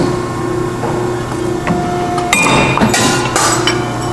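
A Scotchman 5014ET 50-ton hydraulic ironworker's angle shear cuts a 45-degree miter in angle iron, giving a steady hydraulic hum with sharp metallic clinks and a loud crunching bang of the cut near the end.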